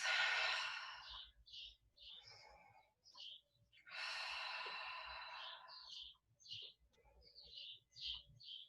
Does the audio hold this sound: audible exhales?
yes